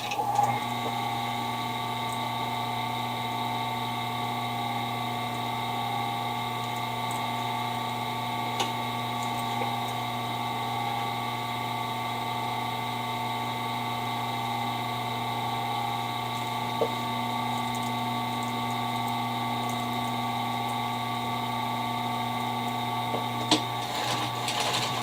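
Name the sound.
sewing machine sewing up a pillow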